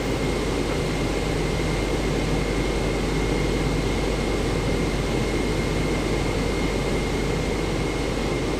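Airliner jet engines idling during taxi in Microsoft Flight Simulator 2024, a steady, even roar with a faint high whine running throughout, unchanging and continuous with no voices.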